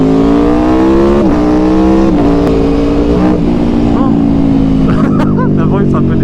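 Aprilia Tuono V4 2018 motorcycle engine, a V4, idling loud and close with several short throttle blips that rise and fall in pitch over the steady rumble.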